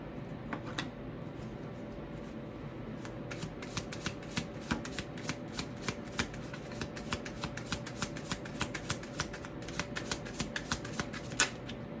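Tarot cards being shuffled, with a steady run of quick papery riffles and soft flicks repeating closely for the whole stretch, close and fairly quiet, without any talk.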